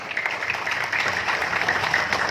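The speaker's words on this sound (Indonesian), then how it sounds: "Sehingga bisa tepuk tangan silakan ya." Audience at a community gathering in Jombang, Indonesia, clapping on cue: a brief, moderate patter of applause from a group, even and continuous over a couple of seconds with a slightly distant, roomy quality.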